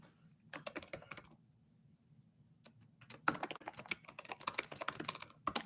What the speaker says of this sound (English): I'm trying to type you guys a message.